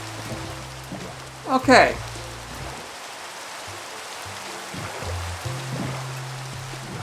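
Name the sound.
rain falling in Minecraft video game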